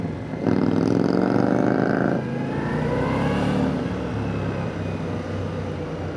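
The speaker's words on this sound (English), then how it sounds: "Rev matching is pretty easy." A 2025 Indian Scout 60 cruiser engine revs up in a rising roar, then drops back and settles into a steady, close running drone.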